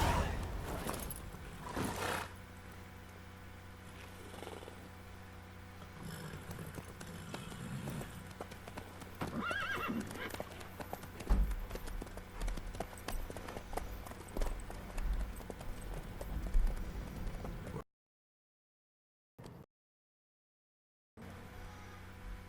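Horse hooves clip-clop steadily at a trot in The Witcher 3, a continuous rhythmic clatter under ambient game sound, with brief voices, ending in two short silent gaps.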